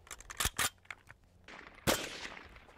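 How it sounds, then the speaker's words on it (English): An empty M1 Carbine magazine pulled out of the rifle, a few sharp metallic clicks and scrapes followed by a louder clack, close and otherwise quiet. "the empty magazine does not drop free and has to be pulled out"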